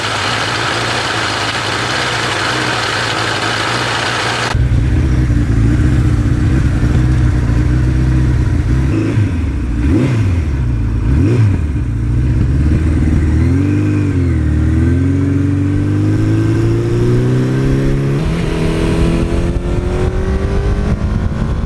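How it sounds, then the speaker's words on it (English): Suzuki GS1100E motorcycle engine, loud and close, idling with a sudden jump in level, then revved in repeated swelling bursts before settling and climbing again. "we want to get out on the open road and just pretend we're firing up that muscle car"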